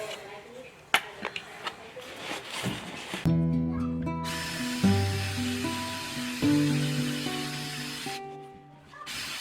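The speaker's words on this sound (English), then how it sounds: "I'm just going to film a little bit of me drilling the holes and then cutting it out" A power drill whines in steady, sustained bursts with a shifting pitch, stopping and restarting as it drills holes in a metal exterior door, after a few sharp knocks and clatter at the start.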